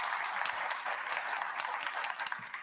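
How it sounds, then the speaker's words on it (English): A board meeting crowd in the village of Dolton claps for the fire chief, with steady, dense applause running through the whole moment and no talking. "Let's give him a round of applause."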